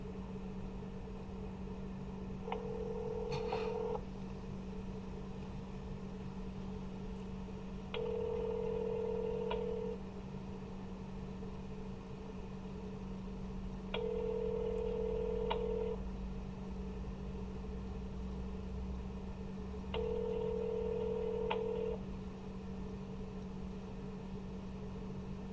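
A phone call plays on speakerphone as a faint ringback tone repeats four times at even intervals over a steady low hum, with no talking.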